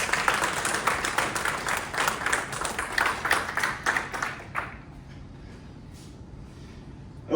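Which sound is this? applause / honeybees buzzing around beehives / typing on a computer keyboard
applause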